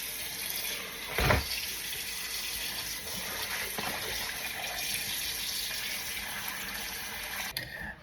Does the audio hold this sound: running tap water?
yes